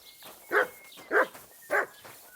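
A dog in Kingdom Come Deliverance 2 gives three evenly spaced, close, sharp barks with a quieter fourth yelp at the end.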